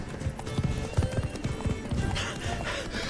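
Roach the horse gallops in The Witcher 3, rapid thudding hoofbeats close by over a busy game soundscape, with a brief whinny-like tone, no speech.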